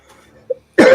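An elderly man gives a short, sharp cough, close and loud, after a faint throaty sound and a moment of quiet.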